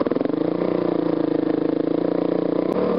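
Heard from the rider's seat, a motorcycle engine drones loudly and steadily, with a fast pulsing throb that holds a fairly even pitch and shifts slightly near the end.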